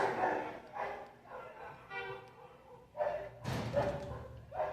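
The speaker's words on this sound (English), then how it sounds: "these dogs are fighting! That's an actual fight!" Several dogs fighting at close range, with rapid overlapping barks, yips and snarls coming in bursts, mixed with excited human voices.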